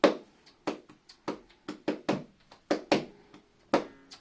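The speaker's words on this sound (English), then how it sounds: "There's the mute sound, they're called palmas sordas" Muted flamenco palmas sordas, hollow cupped-hand claps played solo in a quick, uneven rhythmic pattern of about a dozen close, moderately loud claps with no talk.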